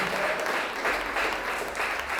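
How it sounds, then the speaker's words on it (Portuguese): A church congregation applauding during a communion service, dense continuous clapping from many hands at an even level throughout, with no voices standing out. "As palmas é para Deus."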